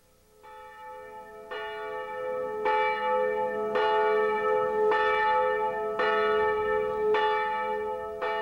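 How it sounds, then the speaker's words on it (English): Church bells in the Polish countryside ring in a steady, resonant sequence, each strike blooming with rich overtones that overlap and linger, loud and clear with no voices. "For centuries, the bells have beckoned them from Poland's countryside."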